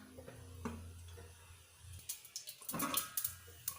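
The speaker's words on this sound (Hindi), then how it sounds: "ढक्कन लगा देंगे ताकि ये राई के जो दाने हैं वो उछले ना।" Mustard seeds crackle in melted ghee under a lid while preparing crispy semolina vada, starting as faint scattered pops and building into a dense run of sharp spluttering crackles near the end.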